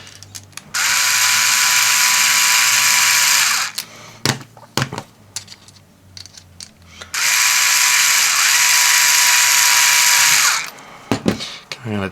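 An electric screwdriver tightens screws on a Dayan Panshi twisty puzzle, giving two loud, sustained whirring runs of about three seconds each, separated by clicks and handling noises, close up with no talking.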